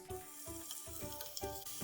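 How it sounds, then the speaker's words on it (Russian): Eggplant sizzling and crackling in hot oil, with a pulsing rhythm of soft bumps as pieces are moved in the pan. "Выкладываем наши баклажаны и обжариваем их до золотистой корочки."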